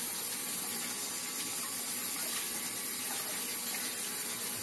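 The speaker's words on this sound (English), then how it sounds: "We get pepper, wash the pepper." A pepper being washed under running kitchen tap water, a steady close rushing stream that continues without a break and with no talk over it.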